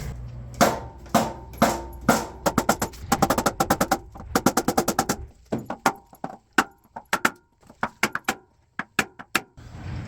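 Hammer blows on the metal bodywork of a Wheel Horse 211-5 tractor, quick bursts of sharp metallic strikes followed by slower, spaced single hits, close and loud.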